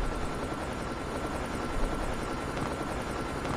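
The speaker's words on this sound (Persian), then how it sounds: "آخ وای هلیکوپتر اومد." Helicopter arriving during a Call of Duty match, a steady broadband rotor-like rumble and noise that holds at constant loudness throughout, with no speech.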